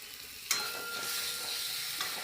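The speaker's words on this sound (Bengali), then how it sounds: "ডিমগুলো দিয়ে ভালো করে একবার ভেজে নিই।" Eggs fry in spiced oil in a pan with a soft, continuous sizzle. Faint stirring scrapes come at intervals, and nobody speaks.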